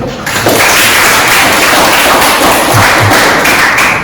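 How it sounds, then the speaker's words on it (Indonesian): Applause for a student in a school classroom, a dense wash of clapping that starts quickly, holds steady and loud for about four seconds, with a few heavier thumps mixed in. "Berikan aplaus dulu"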